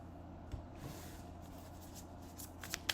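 Tarot cards being shuffled by hand, a faint, soft riffling and sliding with a few light taps and flicks near the end, close and quiet with no talk.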